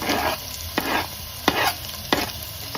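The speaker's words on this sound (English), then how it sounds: "So now I'm just gonna saute my veggies, saute my onion, my scallion, my thyme, my scotch bonnet pepper." Onion, scallion, thyme and scotch bonnet pepper sizzle in a metal pot, with a utensil scraping and stirring in four or five distinct strokes over the steady close frying hiss.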